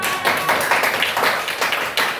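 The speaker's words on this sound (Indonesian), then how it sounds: "Beri yang tepuk tangan." A classroom audience claps steadily after a group presentation, a continuous moderate patter of many hands with a faint tonal hum underneath.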